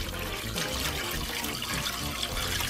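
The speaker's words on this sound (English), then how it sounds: "I've got some water I'm going to just pour right on top of it" Water poured over chicken wings in a container to make a brine, a steady close splashing pour with no talk.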